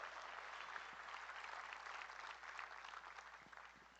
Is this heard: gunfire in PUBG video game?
no